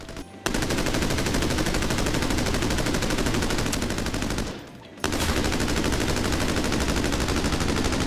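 Sustained automatic gunfire from the U191 rifle in the video game Arena Breakout Infinite, loud and dense, one long burst, a brief pause near five seconds, then firing resumes without talk.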